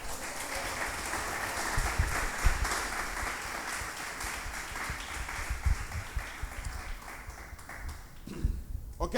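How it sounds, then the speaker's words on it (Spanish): Church congregation applauding at a Spanish-language service, a dense, steady wash of clapping that carries on for several seconds before trailing off, with no voices over it. "Denle un aplauso"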